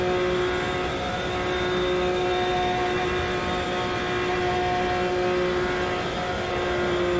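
A race car's engine held at full throttle through the first turn, a loud, steady, sustained drone with a constant pitch heard from inside the car, with no breaks or gear changes.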